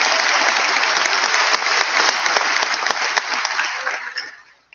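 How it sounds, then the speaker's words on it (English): Graduation ceremony audience at a technical high school applauding the graduates, a loud, dense wash of clapping that holds steady, then fades out toward the end. "Round of applause for our graduates again."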